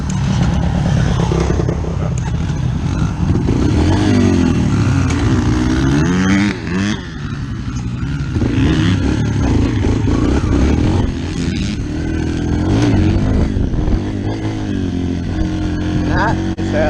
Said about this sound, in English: I'll show you how a proper wheelie's done.